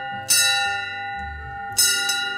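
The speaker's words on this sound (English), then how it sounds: "I'm going to ring the Smittick's bell now" Smithwick's brewery bell in Kilkenny, Ireland, rung twice: two loud bright clangs, each followed by a long ringing decay, with no talk.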